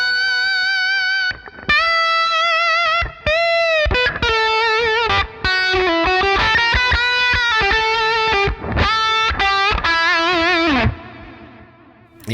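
Electric guitar lead tone through a REVV G4 distortion pedal on its gain channel, thick saturated sustained notes and bends in a melodic phrase, with brief gaps between phrases and a ringing tail at the end.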